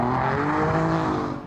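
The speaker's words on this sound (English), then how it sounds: "Something like this, a TVR Tuscan S." A TVR Tuscan S sports car engine gives a loud, steady, close roar that holds evenly before easing off at the very end.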